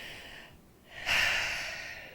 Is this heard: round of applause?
no